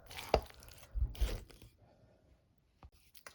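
A spoon stirs a thick boozy Christmas cake batter in a bowl, giving a few separate close scrapes and thick squelches with short pauses between them, and no voices.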